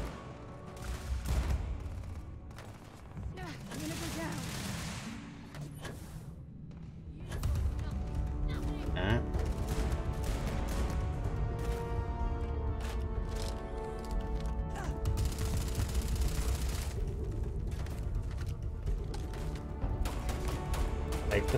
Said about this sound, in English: I'll shoot you with my shotgun pistol.